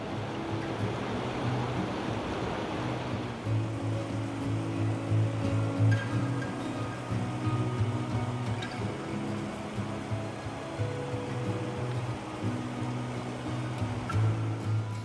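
Glacial meltwater cascades in stages down a waterfall near Lake Louise in Banff National Park, a steady broadband rushing roar with no pauses, heard close and continuous throughout.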